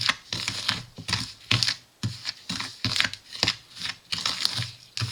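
Bath bomb powder is mixed by hand in a bowl, giving a series of short, close, gritty rustling and scratching strokes in an irregular rhythm.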